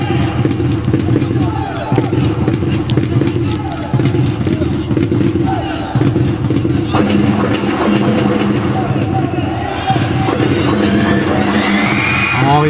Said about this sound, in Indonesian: jerit penonton terdengar sekali